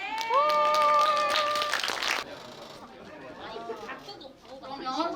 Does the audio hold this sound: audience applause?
yes